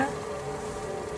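Fried onion with garlic paste sizzles in a pan while biryani is being cooked, a brief, steady crackling fry heard close up with no talking.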